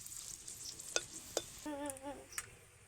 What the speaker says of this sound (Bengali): শুকনো লঙ্কাগুলো একটু ভাজা ভাজা হয়ে যাক